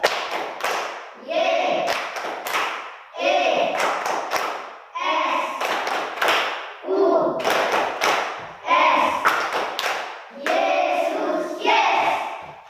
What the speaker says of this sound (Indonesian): kita tepuk Yesus satu kali, semua berdiri